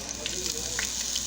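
Oil heating in a hot pot before onions and pimentos go in: a brief steady hiss and faint sizzle with a few small pops, close and moderately loud.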